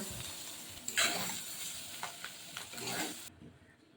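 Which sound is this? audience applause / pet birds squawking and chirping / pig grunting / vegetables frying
vegetables frying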